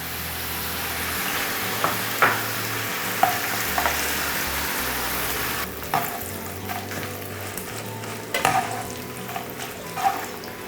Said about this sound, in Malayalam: നമുക്ക് ഈ പപ്പടം ഒന്ന് ഫ്രൈ ചെയ്തെടുക്കാം.